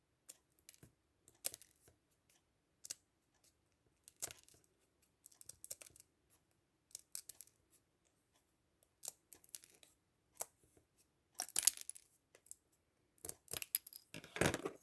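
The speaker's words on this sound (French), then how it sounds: "je vais venir avec mon ciseau et je vais venir couper mon arrondi" Scissors snipping a rounded curve into paper while making a Christmas door decoration, a scatter of quiet, separate clicks and crisp cuts with short pauses, growing busier and louder toward the end.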